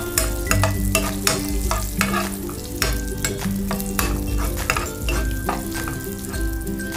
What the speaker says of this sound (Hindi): इसके बाद हम डाल देंगे काजू और बादाम, इन्हें भी हम हल्का सा भूनेंगे।